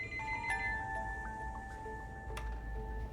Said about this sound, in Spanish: en ese momento el teléfono sonó